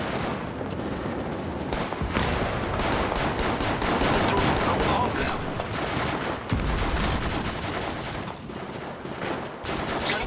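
Rapid gunfire in the mobile shooter Apex Legends Mobile, with dense, loud, continuous bursts of shots running for about ten seconds and a brief lull partway through.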